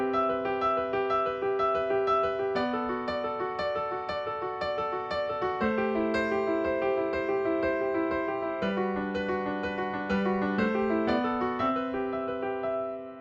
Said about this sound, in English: Our second fun piano drill sounds like this.